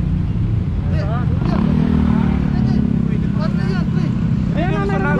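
A motorcycle rides through a closed-off rural road in Barangay Santa Ana, San Mateo, Rizal, its engine droning steadily and loud up close, with people talking over it throughout.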